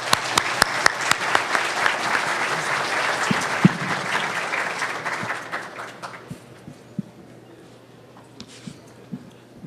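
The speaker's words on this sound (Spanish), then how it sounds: "pido a todos ustedes demos un fuerte aplauso para recibirlo en su ponencia" A conference audience at a Jalisco state government panel on unified police command applauds to welcome a speaker, with dense steady clapping that thins out and fades to scattered claps and quiet room noise by the end.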